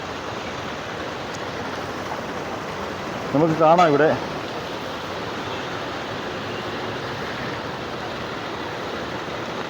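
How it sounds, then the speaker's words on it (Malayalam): Heavy rain pours over the flooded town of Vadakara, where water has entered shops, as a steady, even hiss that runs the whole time, with a brief burst of a man's speech early on. "മഴ ഇപ്പോഴും വളരെ ശക്തമായിട്ട് തന്നെ പെയ്തുകൊണ്ടിരിക്കുകയാണ്."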